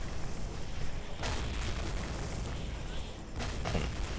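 Artillery guns firing in a warfare strategy game, with two sharp booms about two seconds apart rising out of a steady wash of battlefield noise.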